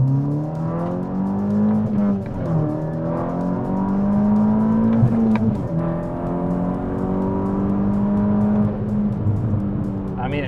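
A Volkswagen MK6 GTI fitted with a CTS Turbo downpipe revs steadily, a strong engine drone with a whining howl rising and falling in pitch, close and continuous with no speech over it.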